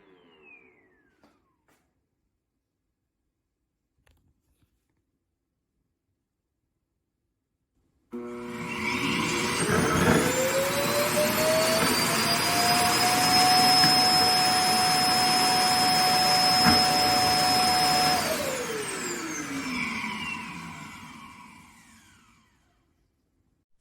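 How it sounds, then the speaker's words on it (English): The iRobot Roomba i7+ home base powers up and sucks debris from the robot vacuum, a loud, steady roar with a rising whine that holds for about ten seconds before winding down. "the robot is going back to the home base where its trash will be sucked up. Though we'll hear that the sound will be very loud."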